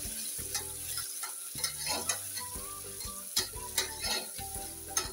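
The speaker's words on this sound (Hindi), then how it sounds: "अब इसे चलाते हुए हमें भून लेना है।" Onion, ginger and slit green chili frying in a pan while being stirred, a bright close sizzle broken by sharp spatula scrapes and taps in an uneven rhythm, no voices.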